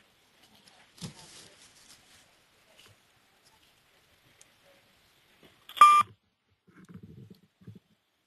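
Telephone keypad tones sound as star and six are pressed to mute a phone on a conference call: a short tone early on, then a sharper, louder electronic beep later, with faint murmuring voices after it.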